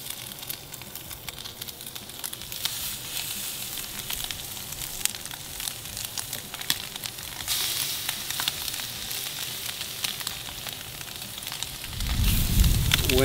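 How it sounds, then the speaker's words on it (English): Crab cakes fry in oil in a cast-iron pan, giving a steady, dense sizzle with fine crackling throughout, and a louder gust of outdoor wind rumbles in near the end. "I've got nice oil on the cast iron, and I'm gently setting these crab cakes down."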